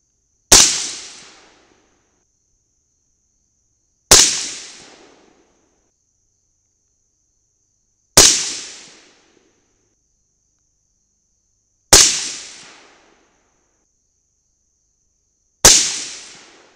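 Five rifle shots fired with Sierra bullets over 24.5 grains of AA2520 powder, each a loud sharp crack with a short decaying echo, spaced about four seconds apart with silence between them.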